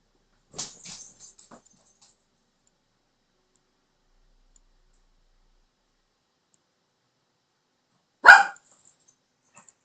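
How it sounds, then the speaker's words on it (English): House dogs bark indoors in two short, sharp bursts: one near the start and another about eight seconds later, with near silence between them. "Don't mind my dogs."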